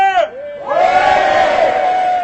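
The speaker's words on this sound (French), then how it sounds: "il y a même des messieurs qui ont crié" Men in an audience shout and cheer in a loud, sustained burst of voices that swells and holds for about two seconds after a single voice calls out at the start.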